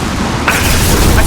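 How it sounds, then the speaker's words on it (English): A flashbang grenade goes off in Mass Effect 2 on PC, a loud sudden boom over dense combat noise in a short burst. "Watch out, flashbangs!"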